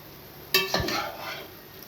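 Masala boti curry ingredients stirred with salt in a metal pan, a single sharp scrape and clink of the spoon followed by a short soft sizzle.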